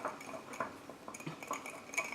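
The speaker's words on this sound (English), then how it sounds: "I'm just going to whisk it really nicely," A whisk clinks and scrapes against a mug while banana, chocolate and almond mug cake batter is mixed, giving quick, irregular taps and soft stirring strokes, close and fairly quiet.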